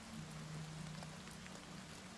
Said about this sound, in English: Sounds like it's raining inside the tower, which is, you know, odd.